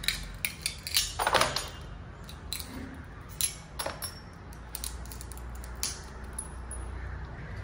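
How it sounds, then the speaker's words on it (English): Small camera lens glass pieces crack and clink against metal scissors in scattered, sharp ticks and brief crunches, close up, with quiet gaps between. "Got to break the rest of the glass off."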